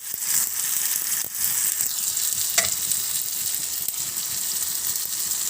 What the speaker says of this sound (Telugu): ఆనియన్స్ వేగిన తర్వాత టమాటా పచ్చిపెట్టానండి. ఆల్రెడీ ముందే కొంచెం సాల్ట్ వేసి ఉంటుంది కదా.